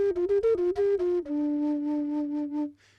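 A large flute from a homemade plastic double flute plays a quick run of short, separated notes, then settles into one long held low tone that fades out, clear and close with no voices.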